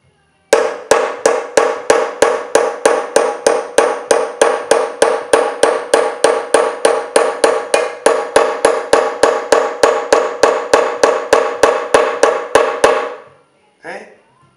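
A heavy, crude hammer chases metal, striking dozens of sharp, evenly spaced metallic blows in a fast steady rhythm for about thirteen seconds before stopping, close and loud.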